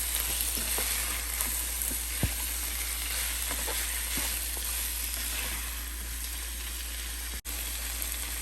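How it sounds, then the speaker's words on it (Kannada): Chicken gravy masala with turmeric and salt frying in oil, a dense steady sizzle close up with a few soft stirring clicks and knocks. "ಇದೊಂದು 5 ನಿಮಿಷ ಎಣ್ಣೆಯಲ್ಲಿ ಚೆನ್ನಾಗಿ ಸ್ವಲ್ಪ ಫ್ರೈ ಆಗಬೇಕಿದು"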